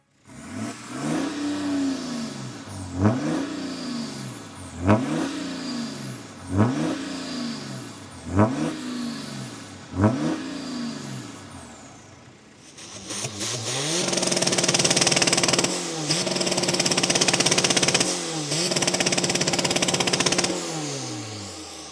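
Several tuned diesel car engines, a 500bhp 1.9 TDI and a 500bhp BMW 330d, rev hard in repeated rising and falling bursts, then a deeper, louder engine roars steadily with rhythmic pulses of revving.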